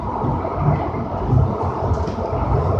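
Rumble and rolling clatter inside a Siemens SD160 light rail car on the Red Line, a steady loud ride noise with faint rattles and no talking.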